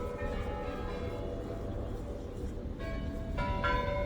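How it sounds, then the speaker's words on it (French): Bells ring in the New Year over a dense, steady background wash, with clearer tolling strokes emerging toward the end, sounding somewhat distant and reverberant. "je vous laisse avec les cloches."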